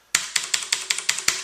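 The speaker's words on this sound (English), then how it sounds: "So that's the sound of bottoming out the key" Keys on a Das Keyboard Model S Professional mechanical keyboard bottomed out one after another, seven sharp close clacks at a steady, quick rhythm with nothing else heard.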